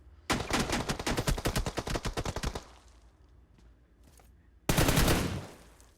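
Gunfire in the mobile battle-royale game PUBG Mobile, where an enemy carries an AWM sniper rifle: a rapid, loud automatic burst lasting about two seconds, a short lull, then another heavy, sharp blast of fire.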